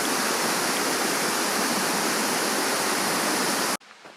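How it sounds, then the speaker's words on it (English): Steady, dense rush of flowing water from a waterfall or stream beside a hillside path, loud and close, continuous with no break until it cuts off abruptly near the end. "Flowing water will always be interesting."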